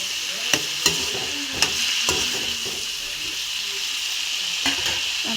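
Puri frying in hot oil in a home kitchen: a steady, close sizzling hiss runs throughout, broken by a few sharp clinks of a utensil against the pan.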